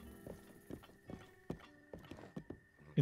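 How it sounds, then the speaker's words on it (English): Hooves clip-clop in an irregular walking rhythm from a horse in The Legend of Zelda: Breath of the Wild, with a brief snort or neigh at the end, close and moderately loud against quiet game ambience. "Horse!"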